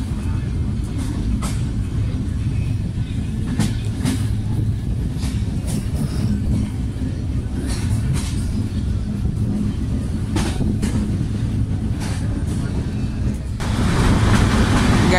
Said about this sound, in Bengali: আমাদের ট্রেন এলিভেটেড এক্সপ্রেসওয়ে নিচ দিয়ে যাচ্ছে